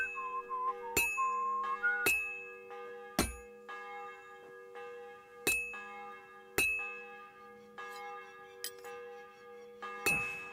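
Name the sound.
bell ringing in video game Kingdom Come Deliverance 2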